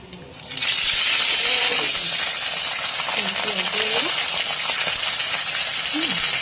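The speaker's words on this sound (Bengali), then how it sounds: "এরপর একটু পেঁয়াজ দিয়ে দেবো এই যে পেঁয়াজ দিয়ে দেবো" Onions hit hot oil tempered with cumin for khichuri, and a loud, steady sizzle bursts in after a short quiet start and holds to the end, with faint talk underneath.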